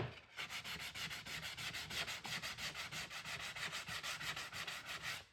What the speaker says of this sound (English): I'm not gonna sand actually in the middle. I'm just gonna take off the hard edges around here.